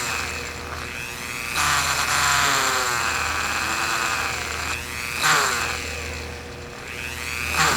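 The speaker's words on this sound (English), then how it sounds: "And I'm going to drill that little hole across from there." A small Dremel rotary tool with a fine bit drills a little hole in carved wood for a Russian folk toy, a steady high-pitched whine that dips and rises under load, close and continuous.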